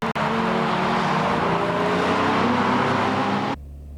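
A pack of race cars, including a Fairlady Z Nismo, roars away from a standing start in loud sustained engine drone. It cuts off abruptly near the end, leaving a low hum.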